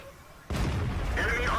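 A single heavy tank cannon shot in a tank video game on a test server, an abrupt loud boom followed by a sustained rumble and engine noise.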